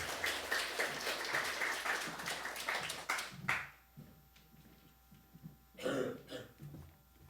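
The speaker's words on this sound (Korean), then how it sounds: "우리 장로님 나오실 때 우리 큰 박수로 우리 맞아주시기 바랍니다" Congregation clapping at a Korean church's anniversary service, several seconds of brisk applause that stops abruptly, then a cough and a few faint sounds in a quiet hall.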